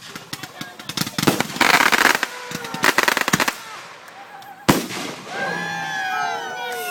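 Fireworks burst in a crackling, popping barrage outdoors at a private home celebration, with loud clustered bangs, a sharp single blast and whistling trails, while people chat and react in the background.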